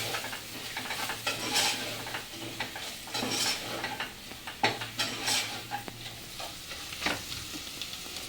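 Mutton keema masala frying in a pan while being stirred, steady sizzling with spoon scrapes and clinks against the pan recurring every second or so, close up and with no voices.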